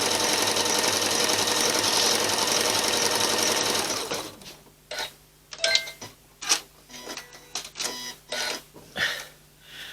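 Domestic sewing machine running a blanket stitch applique on a table runner, first a continuous fast whirring run, then a series of short stop-start bursts of stitching with pauses between.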